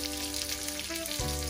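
Onions sautéing in a pan, a steady dense sizzle and crackle of frying that holds throughout, close and fairly loud with no voice over it.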